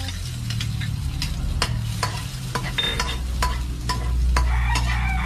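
Fish browns in a pan, a loud close sizzle punctuated by a series of sharp spatula scrapes and taps, with the frying swelling toward the end.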